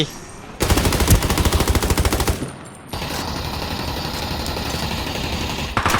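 Rapid automatic gunfire from the video game Ring of Elysium, with a loud sustained burst, a brief pause, then a long, steady stream of shots.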